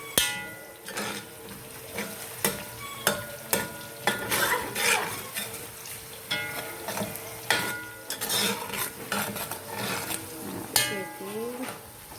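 Onions frying in a pot on a home stove for a Somali rice dish, with repeated sharp scraping and stirring clatter over a low steady sizzle, close and moderately loud, no one talking.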